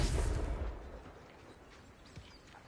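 A Confringo blasting spell goes off in Hogwarts Legacy with one loud, deep explosive boom that rumbles and fades out over a couple of seconds, followed by faint debris crackles.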